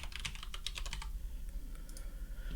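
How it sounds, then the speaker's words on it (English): Typing on a computer keyboard, a brisk burst of close, crisp key clicks that slows to a few scattered taps after the first second, with no voices. "I hope my keyboard isn't too loud for you."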